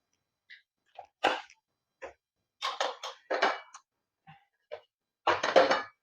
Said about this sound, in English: and then we stir in very well